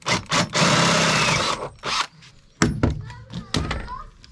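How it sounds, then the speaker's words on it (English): A drill fitted with a 9mm bit bores out holes in a VW Caddy Maxi van body to take M6 rivet nuts. A loud, close whine runs for about a second, then comes a few short bursts and knocks. "So I'm going to drill these out just slightly bigger. That's a 9mm drill bit and this is for an M6 rivet nut"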